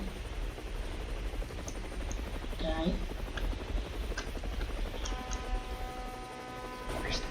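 Helicopter rotor drone during a landing in a video game, a steady loud whir filling the whole clip with people talking over it.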